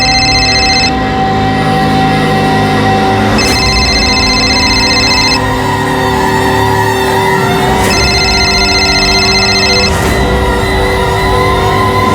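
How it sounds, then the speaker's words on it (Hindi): A telephone rings unanswered in a home during a crime drama scene, sounding in repeated bursts of bell-like trilling spaced a few seconds apart over a steady background, with no talk. "फोन नहीं उठा रही।"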